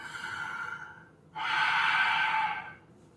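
Ujjayi breathing during a yoga session, air drawn through a constricted throat in two long, hissing breaths with a short pause between, close and steady with no talking.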